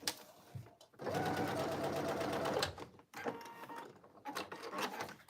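A sewing machine stitching a small folded end of fabric for cargo pants, running in a steady whirring burst of about two seconds, then shorter runs after a pause, close and clear with no talk.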